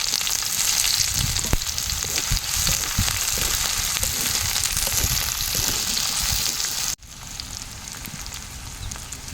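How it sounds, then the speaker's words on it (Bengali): Chopped onions hit hot oil with cumin seeds for a vegetarian soya tikka masala, giving a loud, dense, steady sizzle that cuts off abruptly near the end and resumes more quietly. "দিয়ে দেব কেটে রাখা পেঁয়াজ"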